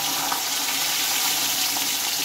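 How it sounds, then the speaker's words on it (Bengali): Pointed gourd (potol) frying in hot oil with turmeric gives a steady, dense sizzle that stays even and close throughout, with no voices. "এখন আমি পটলগুলো ভালোভাবে ভেজে নেব।"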